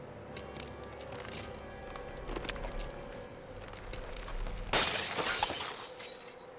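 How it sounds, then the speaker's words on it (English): A glass shattering effect from the video game Tales of Arise bursts out suddenly after a stretch of low background sound, a bright crash followed by a brief tinkling decay. "Glass shattering, but that did not sound like glass."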